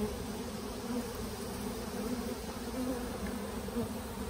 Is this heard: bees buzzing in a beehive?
yes